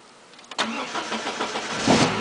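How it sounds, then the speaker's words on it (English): A 2.4-litre Chevrolet Cavalier engine with a manual clutch cranks briefly, then fires and runs roughly with uneven revs, loud and close, and no voices are heard. "let's go in and see if it starts up."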